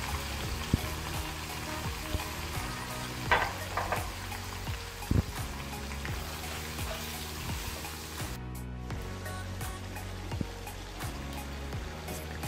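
Dry spices with salt, chili, turmeric and garam masala frying in a pan with a splash of water for haleem: a steady close sizzle with a few soft stirring knocks, no talking.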